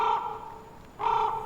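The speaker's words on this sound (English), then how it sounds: "I love the little caws." Two distinct crow caws sound in the video game Never Alone, each a short, harsh, nasal call, one at the start and another about a second later, with quiet between them.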